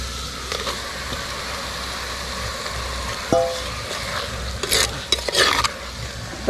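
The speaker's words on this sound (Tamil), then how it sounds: "தக்காளி சிக்கன் போட்டு நல்லா கிளறிக்கணும்" Chicken and tomato sizzle in a clay pot while a spoon stirs and scrapes, with a few clinks and clatters of utensils, close up and without speech.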